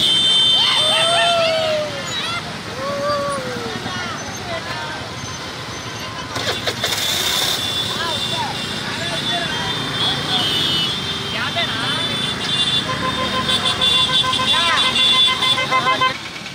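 Youth on motorbikes in a political rally rumble past with revving engines and repeated horn toots amid crowd babble and talk, the mix swelling and fading as the bikes pass.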